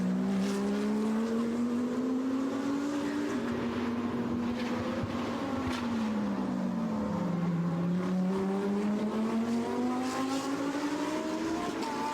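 A GT3 race car drives on a circuit with a Lamborghini close behind, its engine a loud, sustained drone whose pitch rises and falls through gear changes and corners.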